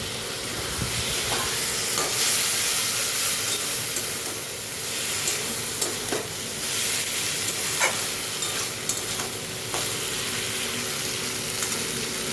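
Chicken mince and onion simmer and sizzle in a pan after a splash of water, giving a steady, close hiss with steamy bubbling and occasional scraping stir clicks throughout.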